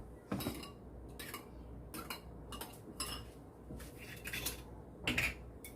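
Eggs are beaten with salt in a bowl for rice-cake soup, a fork or whisk clattering against the bowl in quick irregular bursts of clicking strokes, close but fairly quiet, with no talking.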